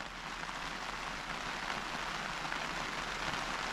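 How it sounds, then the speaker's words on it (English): Steady rain falls on a sand-covered survival shelter on a cold night, a continuous even hiss of drops with no talk over it. "It's still raining."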